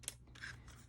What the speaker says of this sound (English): I just took this scrap that I've got and I'll punch, and then I'll punch it again